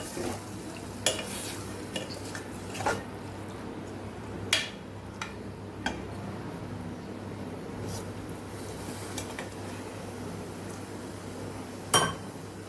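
Chori bateta (black-eyed bean and potato) curry with added water is stirred in a pressure cooker, giving scattered soft scrapes and occasional metallic clinks over a low steady background hum, with no talking.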